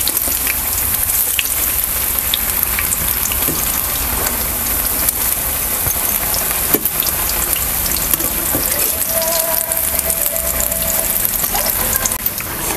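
Bread pakoda deep-fries in hot oil, giving a loud, continuous crackling sizzle like heavy rain, steady throughout and close by, with no voice.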